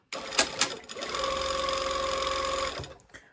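A sewing machine runs one continuous stitching pass around the top of a garment waistband at a 5/8-inch seam allowance. It starts after a couple of short clicks and hums steadily, close and fairly loud, with no talking.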